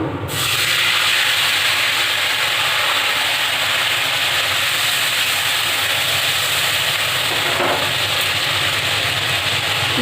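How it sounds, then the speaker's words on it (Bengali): Garlic already fried in a hot pan hisses and sizzles loudly and steadily as a little water is poured in, a dense broadband roar continuing throughout with a brief bubbling surge near the end. "রসুনটা আমি ভালো করে ভেজে নিয়েছি এবার এতে অল্প একটু জল দিয়ে দেবো"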